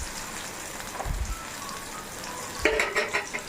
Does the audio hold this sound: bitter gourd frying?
yes